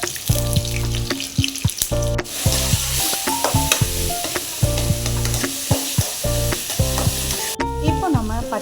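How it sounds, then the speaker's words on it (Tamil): Ginger garlic paste frying with mustard seeds in hot oil in a pan, a loud dense sizzle with frequent spluttering pops and repeated scraping stirs close up. "நம்ம அரைச்சி வச்சுருக்கேன் இஞ்சி பூண்டு பேஸ்ட்டு விழுது போட்டுக்கலாம்."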